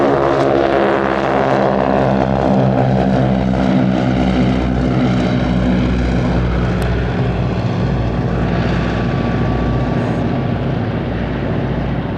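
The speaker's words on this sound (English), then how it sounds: "There's really no place in Oshkosh where you can completely get away from the sounds of roaring airplane engines," Loud, steady roar of propeller airplane engines at the Oshkosh AirVenture fly-in, continuous and close with dense droning harmonics and no break across the whole stretch.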